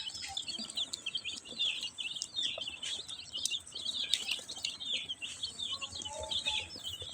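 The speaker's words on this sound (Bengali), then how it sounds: "আমাদের কাছে হিউজ পরিমাণ টাইগার মুরগির বাচ্চা আছে" Many Tiger-breed chicks chirp continuously at a hatchery supplying baby chickens, their high, dense peeping overlapping steadily at a moderate level with no talk.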